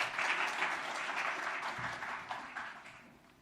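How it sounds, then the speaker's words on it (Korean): A church congregation applauding during a Korean Sunday worship service, a dense burst of clapping from a crowd that fades gradually toward the end. "일단 박수를 한 번 더"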